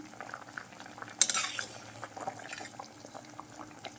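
Fish curry gravy with rui fish and amra (hog plum) simmers in a pot. Quiet, low bubbling runs throughout, with a brief splashy stir or clink near the start, and no one speaks.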